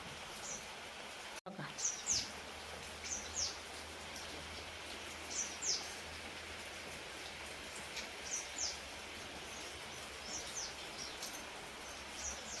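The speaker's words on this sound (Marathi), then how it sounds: "तुम्हाला दाखवते कसा पाऊस चाललाय आमच्याकडे" Steady rain falls outdoors as a dense, even hiss, with faint bird chirps breaking through at intervals and one brief thump partway through.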